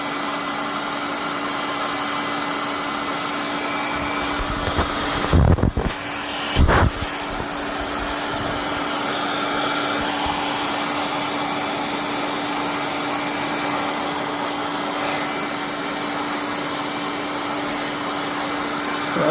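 Heat gun blowing hot air to shrink heat-shrink tubing on a high-current power cord, a constant loud airy roar with a steady hum, broken by a couple of short bumps midway.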